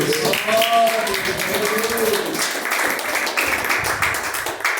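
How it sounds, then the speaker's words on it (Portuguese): Worshippers in a Portuguese-language church service clap for Jesus, a dense, continuous patter of many hands lasting several seconds, with a voice speaking or singing over the start before the clapping carries on alone. "Bate palmas para Jesus."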